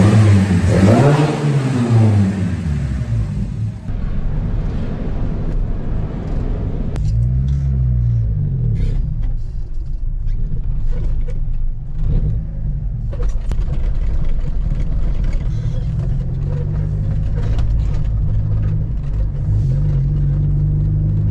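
A Fiat 147 engine with a newly swapped carburetor revs up repeatedly, rising and falling in strong sweeps, then settles into a steady loud drone and rumble as the car drives along.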